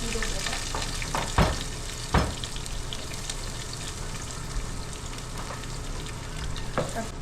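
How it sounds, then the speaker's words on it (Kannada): Onions frying in hot oil, a continuous crackling sizzle with a few sharp stirring clatters, fairly quiet and close, with no voices. "ಈಗ ಎಣ್ಣೆ ಕಾದಿದೆ ಟಕ್ ಟಕ್ ಅಂತ ಆನಿಯನ್ಸ್ ಹಾಕೊತೀನಿ"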